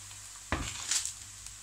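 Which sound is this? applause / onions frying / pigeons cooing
onions frying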